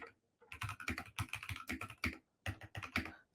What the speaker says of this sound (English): I'm randomly typing while I'm talking about it